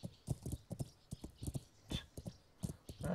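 Horse hooves gallop in Kingdom Come: Deliverance, a quick, steady clip-clop rhythm of sharp, close thuds repeating throughout, with no talking.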